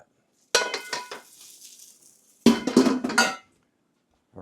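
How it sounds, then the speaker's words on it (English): Soft Whampoa-style scrambled eggs slide out of a metal wok onto a bed of rice in two separate bursts of scraping and clattering, close and fairly loud, with quiet gaps between them and no talking. "We're going to let that kind of wave of eggs flow over our rice like that."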